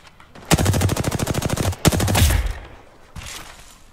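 Video game machine-gun fire rattles in two loud, rapid bursts of evenly spaced shots, close and forceful, followed by a fainter third burst.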